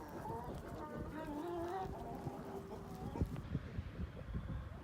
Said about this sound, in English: I'll go check on the birds in the hen house